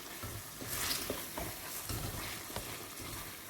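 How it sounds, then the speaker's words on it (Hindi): Spices frying and being stirred in a pan for a Mirpuri-style chicken and potato gravy, giving a close, steady sizzle with repeated scraping stirs and no voices. "इसको भी भून लेते हैं इस तरह से, ताकि इसका कच्चापन जो है वो ख़त्म हो जाए।"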